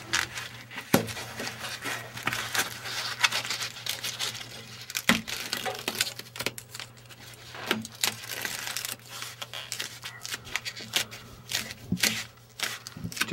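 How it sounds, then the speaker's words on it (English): Tape strips peel off foam pipe wrap insulation in steady crackling, crinkling rips, close and continuous with sharper snaps scattered throughout and a faint hum underneath. "you very simply pull off these pieces of tape, and it'll stick together and form a nice tight seal."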